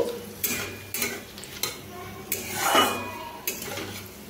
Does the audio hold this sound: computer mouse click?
no